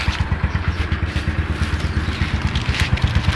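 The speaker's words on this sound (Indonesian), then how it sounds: "Sekarang ini udah mulai agak kencang motornya nih" A Yamaha Mio Sporty scooter with a rough-sounding CVT runs close by at a fairly fast idle, its engine putting out a steady, rapid pulsing thrum with a rattly clatter over it and no talk.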